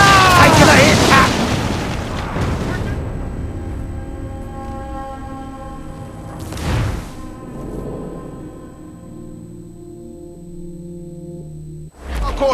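Ship cannon fire in Assassin's Creed IV Black Flag: heavy booming blasts, one loud at the start, another near the middle and a third at the end, each trailing off into rumble, close and powerful.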